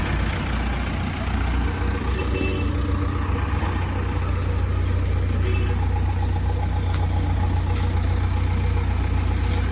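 A Mahindra tractor fitted with a Kirloskar engine and an upgraded hydraulic system idles nearby in a steady, loud low rumble that holds unchanged throughout, with no voices over it.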